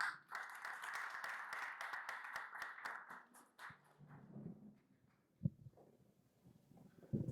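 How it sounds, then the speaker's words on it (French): Brief scattered clapping from a crowd for a few seconds, fading into quiet room noise with a couple of soft thumps. "sous les applaudissements"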